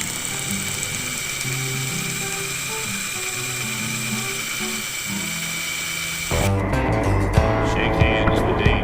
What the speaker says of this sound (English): Now I am gonna have to still drill this one out because I can't get this off the handlebar.